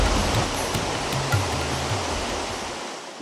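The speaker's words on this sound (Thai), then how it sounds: "และแล้วเราก็มาถึงแล้วอย่างน้ำตกวังสักสิว" Wang Sak Siw waterfall flowing, a steady broadband rush of falling water that holds even and continuous, with no voices over it.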